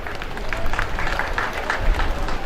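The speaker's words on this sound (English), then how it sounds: "A round of applause for Unimed." Applause from a large audience at a university convocation ceremony at Unimed in Ondo, a steady dense clapping that holds throughout at moderate loudness.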